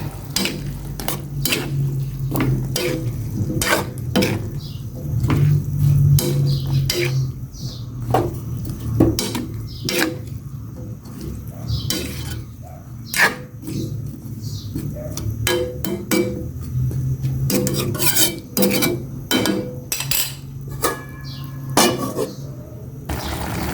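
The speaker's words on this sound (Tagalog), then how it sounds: "Ilagay ko na itong kalabasa." Squash added to a simmering pot and stirred, with repeated scraping and clattering of a utensil against the pot over a low boiling hiss, steady and close throughout.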